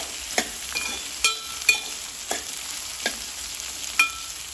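Bitter gourd sizzles softly in hot oil in a pan, with several sharp scrapes and clacks of a spoon stirring at irregular intervals.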